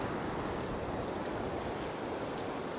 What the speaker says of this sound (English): Got to wait for a little break in the waves.